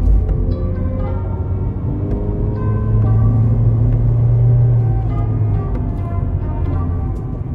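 A 2018 Toyota Yaris TRD Sportivo pulls in second gear on a quiet road, its engine droning steadily and rising in pitch under acceleration, with road rumble throughout.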